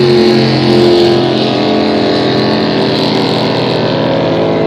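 Super stock hydroplane race boat at a regatta, Jeff Gibson driving the number 31, its engine roaring loud and steady at high revs, close and continuous.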